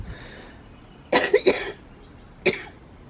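Three quick coughs in a cluster, then a single cough after a short pause, close by against a quiet background.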